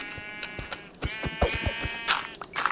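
Sheep in Minecraft bleat repeatedly, several wavering, nasal calls in quick succession over short, soft clicks and footstep-like taps.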